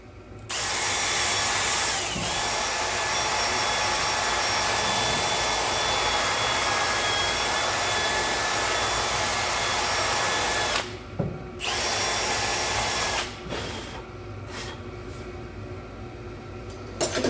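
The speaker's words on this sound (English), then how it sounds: "take our drill and just clean this out a little with this wire wheel" A power drill spins a small wire wheel to scour a brake hub on a Ford Transit Mk8 during a front disc and pad job, a loud steady whine and scrubbing that runs nearly continuously, briefly stopping and restarting near the end.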